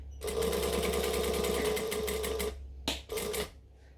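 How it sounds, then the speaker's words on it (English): A sewing machine stitches steadily for about two seconds at top stitching length, then makes two short back stitch bursts, running close and loud with a rapid mechanical rattle. "I'm going to stitch, back stitch"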